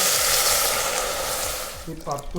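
Water pours into a pot after ginger and peanuts were stir-fried, a steady loud hissing sizzle and rush that tapers near the end as a voice begins talking.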